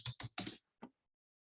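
Keys tapped on a computer keyboard while entering text into a telehealth account page: three quick clicking bursts in a row, a short pause, then one final tap, close and fairly quiet, with no talking.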